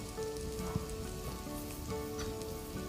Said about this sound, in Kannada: ನೋಡಿ, ಕಾಯ್ತಾ ಇದೇನು ಚೆನ್ನಾಗಿ ಚಟಪಟ ಅಂದಿದೆ